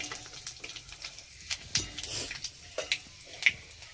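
Panch phoron spices hitting hot mustard oil in a wok, giving scattered crackles, pops and a soft sizzle; faint and close, with no talking.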